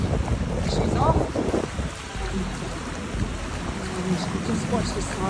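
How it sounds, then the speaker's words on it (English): Tidal surge rushing through a creek crossing a road near Cape Reinga, a steady broadband wash of water mixed with wind buffeting the microphone, constant and close throughout. "Just watch this tidal surge just rip through."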